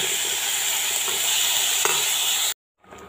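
Steady bubbling and sizzling of a pot of ridge gourd curry simmering, loud and close, continuing without pause before cutting off abruptly near the end.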